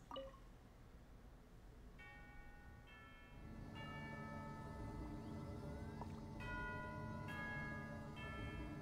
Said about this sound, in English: let's listen to the chimes